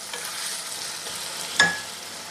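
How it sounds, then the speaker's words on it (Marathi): Ground masala paste being stirred in a pan for a chickpea and potato curry, giving a soft steady sizzle with a brief louder scrape of the spoon near the end, close and alone. "सगळं व्यवस्थित मिक्स करून घेऊया"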